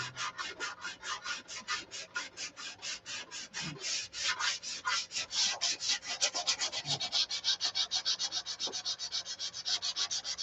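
Rhythmic back-and-forth sanding strokes rub steadily across an aircraft's painted surface, scuffing out hangar rash; the strokes run evenly and close throughout, getting slightly louder and quicker toward the end.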